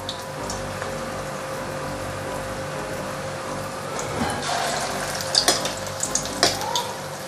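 Crispy meatballs frying in oil over medium heat, a steady soft sizzle and crackle throughout with a few sharper pops and utensil clinks near the end.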